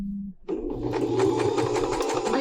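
A longarm quilting machine stitching a door hanging runs with a steady, close mechanical whir and rapid needle chatter; a brief low hum comes first, then a short pause, then continuous stitching.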